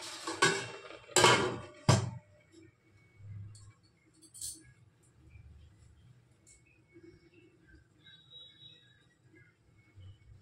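A lid goes onto a pot of rasmalai simmering in milk with a few close metallic clinks and clatters, followed by a quiet stretch with faint scattered taps.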